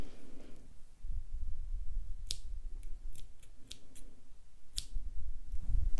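Scissors snip through crochet yarn in a few sharp, quick clicks, close up, against a quiet room background.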